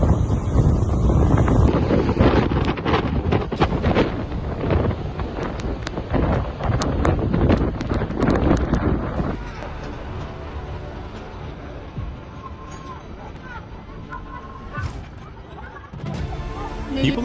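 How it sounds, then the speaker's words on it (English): Strong storm wind roars against the microphone while heavy waves crash around a small sailboat off Pensacola, loud and gusty at first then easing slightly, with a voice talking over it. "small sailboat was quickly overwhelmed by waves near Pensacola as a strong storm moved ashore"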